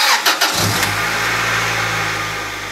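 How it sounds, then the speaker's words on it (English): After a cold air intake is installed, a car engine cranks briefly, catches and settles into a loud, steady idle close by, with nothing else heard. "everything is installed, so you can go ahead and start it up."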